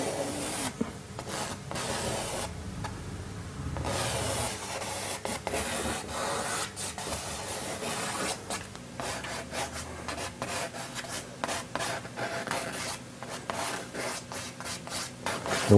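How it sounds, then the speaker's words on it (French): Charcoal dragged across a stretched painting canvas while sketching, giving a steady dry rubbing and scraping texture with irregular stroke bursts, close and continuous with no talking. "je vais dessiner l'esquisse au fusain sur la toile."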